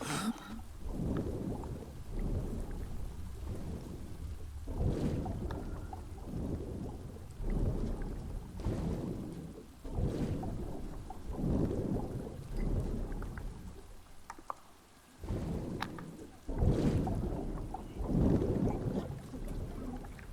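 Thunderstorm with heavy rain in the survival video game Stranded Deep: steady rain hiss broken by repeated deep rolling thunder rumbles every few seconds, loud and close, with no talking.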